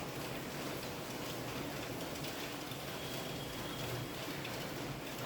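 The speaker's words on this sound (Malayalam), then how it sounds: "രണ്ട് ദിവസമായിട്ട് ഭയങ്കര മഴ" Steady, dense hiss of heavy rain falling continuously, with no voices and no breaks.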